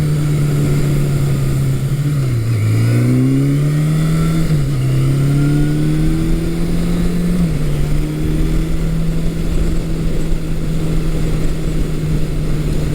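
A 1982 Suzuki GS750E motorcycle engine pulls through the gears: a loud, close drone rises in pitch, dips at each of several shifts, then climbs again over steady wind and road noise.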